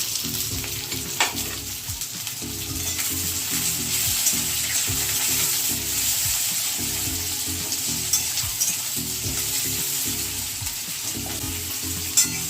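Chopped onions, two medium ones, frying and sizzling steadily in a pan, with occasional stirring scrapes, close and continuous throughout with no talk.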